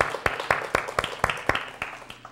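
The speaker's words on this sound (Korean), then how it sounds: "영광의 박수 드리겠습니다" Church congregation applauding during a Thanksgiving service, with sharp irregular claps standing out over a steady patter of many hands, fairly close and loud, no talk over it.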